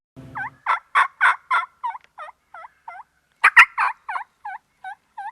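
A wild turkey gobbles outdoors, sounding several rapid, loud, warbling gobble bursts, pausing briefly, then calling again with another gobbling series that trails off into shorter notes.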